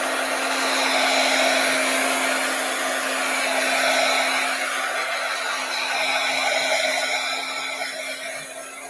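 A hair dryer blows a steady, loud whooshing hum close by as it dries paint on a Christmas card, with no talking.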